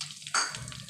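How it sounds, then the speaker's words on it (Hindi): Ground fennel and garam masala hit hot oil for a chicken handi, giving a sudden sharp sizzle burst that settles into a steady, close crackling fry. "मैं 1 टेबल स्पून यहाँ पे डाल देती हूँ तेल पे।"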